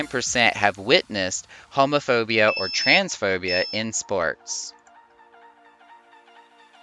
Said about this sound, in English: I'm sorry about my phone beeping.